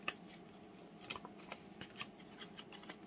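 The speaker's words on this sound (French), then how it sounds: "il faut plier le milieu" Paper is folded down the middle for a handmade scrapbook album, giving faint, close crinkles and brief creasing taps with no talk.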